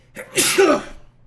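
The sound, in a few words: sneeze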